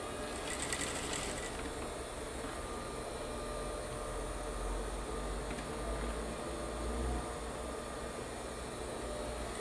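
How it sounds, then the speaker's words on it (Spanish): A sewing machine stitches elastic onto the corner of a fabric face mask, a continuous fast mechanical whir with a rapid rattling texture, steady and moderately close, with no talk. "Metemos el elástico que nos quede bien organizado en la parte de la esquina del tapaboca y cosemos"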